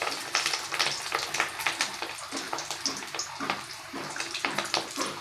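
Fish roe with garlic and spices frying in hot oil, a steady crackling, bubbling sizzle with frequent sharp pops and spatters, close and fairly loud throughout.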